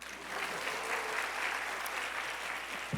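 A congregation at a Korean church sermon applauds in a steady, dense patter of many hands that holds evenly for about three seconds, filling the hall.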